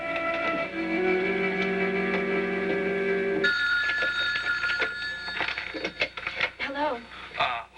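A telephone rings with steady electronic tones, then the pitch pattern changes partway through, and voices and other room sounds pick up toward the end.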